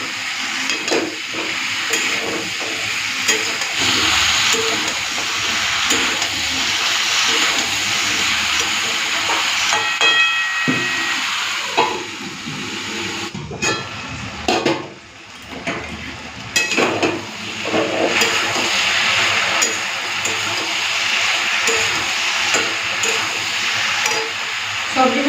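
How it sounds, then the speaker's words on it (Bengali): Vegetables and a few green chillies frying in a pan while crab legs are cooked, giving a steady, loud sizzle and hiss throughout, with brief stirring clatter and a short dip midway. "সবজিগুলো ভাজা ভাজা হয়ে গেছে, এখন দিয়ে দিচ্ছি কাঁকড়ার পাগুলো।"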